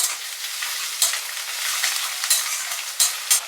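Spices for chicken kosha frying in a pan, a steady close hiss and sizzle broken by several sharp stirring scrapes against the metal, with no talking.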